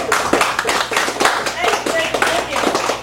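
Audience at a Chicago poetry open mic at the Cafe Gallery clapping after a poem: a dense, steady patter of many hands, fairly close, with voices mixed in.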